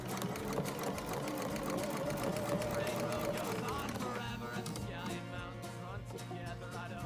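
A sewing machine stitches in the ditch on a quilt along a border ruler, running in a fast, continuous, close whirring hum while a voice talks faintly over it.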